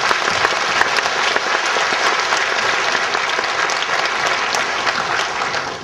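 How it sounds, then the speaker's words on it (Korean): A church congregation applauds together during a worship service, steady dense clapping that fills the room at an even level for several seconds with no speech over it. "우리를 도와주시는 사랑의 하나님께 영광의 박수 올려드립니다"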